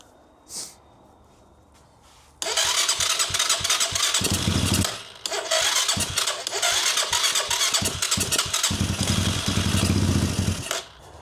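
An Apollo 250cc dirt bike with electrical problems, running on gas, starts up after a faint knock and settles into a loud, close, uneven idle with brief dips and sputters, heard alone without voices.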